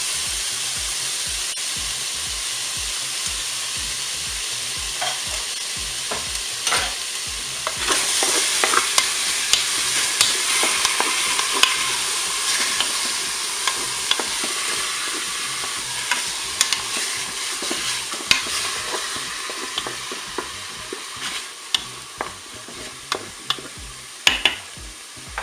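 Onions frying in a Cookeo multicooker while being stirred for a pork roast cooked in cider, a steady sizzle with frequent scraping and clicking strokes of the utensil, growing busier partway through, no talk.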